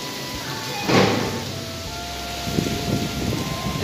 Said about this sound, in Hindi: देख रहे हैं कि तूफानी बारिश स्टार्ट हो चुकी है, और हम इस टाइम पर मौजूद हैं केटल फार्म पर।